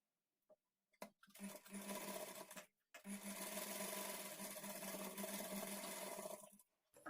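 A sewing machine stitches the armhole darts of a lined blouse, a short burst followed by a longer, steady run of fast, even needle rattle, close but fairly quiet, separated by a brief pause.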